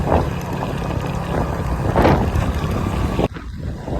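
Strong wind buffets the microphone in a constant, heavy rush with gusty swells, ending in a sudden drop.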